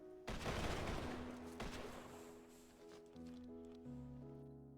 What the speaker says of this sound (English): Color guard, ready, aim. Fire.